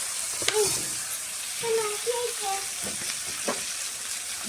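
Food fries in a pan with a bright, continuous hissing sizzle, while faint voices murmur underneath in a village home kitchen.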